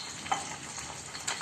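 An egg fries in a pan for a bull's eye fried egg, giving a soft, steady sizzle with a few faint crackles and no voices.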